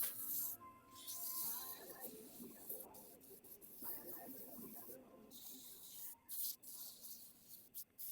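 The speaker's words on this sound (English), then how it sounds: "Here I'll take some 220 grit sandpaper to start, and I'll finish that off with a 400" A wooden screwdriver handle is sanded with 220 grit sandpaper in quiet, soft rubbing strokes, a faint hissy scratching that comes in short passes with pauses between.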